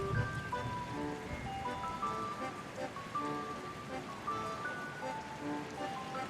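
Steady rain patters in Genshin Impact, a soft continuous hiss of drops under light tonal game music, fairly quiet, with a voice speaking briefly at the start.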